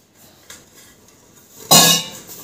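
Pots and bowls are handled while food is served, with a couple of light knocks followed by one louder metallic clatter, close by and without talk.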